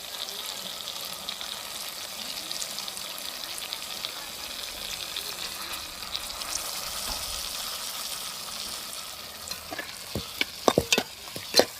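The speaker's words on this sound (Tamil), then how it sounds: "இப்போ வதங்கிருச்சு மசாலா சேர்த்துக்கிறேன்" Fish masala with sautéed onions stirred and fried in a pan for a home-style onion gravy, a steady sizzle under spoon scraping, then a few sharp clinks of the spoon against the pan near the end, no talk.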